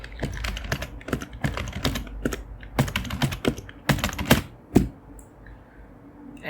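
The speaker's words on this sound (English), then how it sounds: "Type in your username and stuff there." Brisk, loud typing on a computer keyboard while a username is entered during a Linux operating system installation: dense bursts of close key clicks with brief pauses, ending in a few single firm taps.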